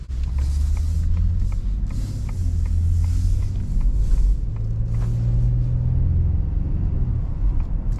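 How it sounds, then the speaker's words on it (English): A 2022 Ford F-150 XL 4x4 pickup with a naturally aspirated 3.3L V6 drives onto a street, its engine a steady low rumble from inside the cab, with faint ticking and slight rises in pitch as it pulls along. "Very smooth engine, actually."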